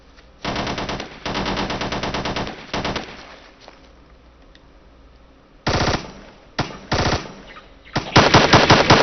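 Machine-gun fire in the Ghost Recon video game, rapid loud bursts close by, with long rattling strings separated by quieter pauses and shorter volleys toward the end.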